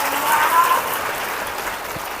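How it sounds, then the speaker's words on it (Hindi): Applause for the Lord's name during a Hindi Christian church service, a congregation clapping in a dense, continuous patter at fairly loud level from start to finish. "ताली बजा के प्रभु के नाम को"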